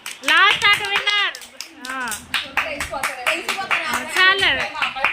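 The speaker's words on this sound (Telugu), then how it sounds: "క్లాప్స్ కొట్టు." A small group at a home kitty party claps for a housie game winner, a quick patter of hand claps mixed with excited chatter and calls, close and lively.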